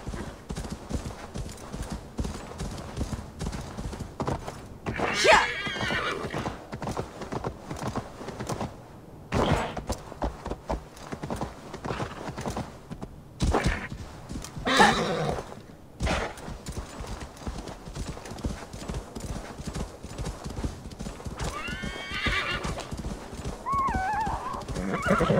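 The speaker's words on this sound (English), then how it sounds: "This horse is fucking cool." Steady clip-clop of horse hooves throughout in Assassin's Creed Valhalla, with several loud neighs and whinnies cutting in, and occasional faint voices in the background.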